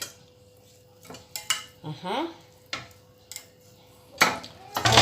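A browned veal roast goes into an ovenproof dish with clattering kitchenware, scrapes and a few sharp knocks. A short spoken word opens it, and a faint sizzle runs underneath.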